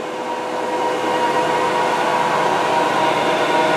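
A 2006 Harrison Alpha 400XS CNC lathe with Fanuc control runs at 500 RPM, giving a steady, loud mechanical whine and hum with a constant tone and broadband noise throughout, with no voices.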